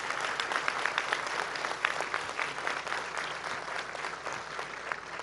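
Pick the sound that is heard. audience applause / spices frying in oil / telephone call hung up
audience applause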